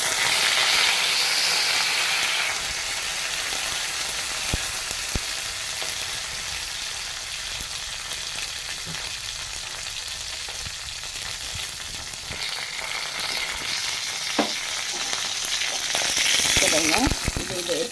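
Dried chillies and curry leaves crackle and fry with mustard seeds in hot oil, giving a continuous close sizzle with scattered pops and louder surges at the start and end.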